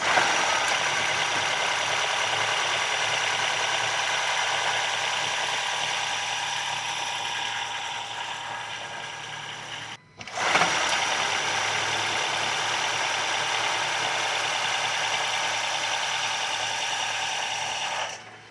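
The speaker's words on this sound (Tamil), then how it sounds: "நம்ம ரிவ் பண்ணி பார்த்துருவோம்." A Honda City Hybrid i-VTEC engine runs with a steady, even hum at close range and no people talking, cutting out briefly for a moment midway before resuming.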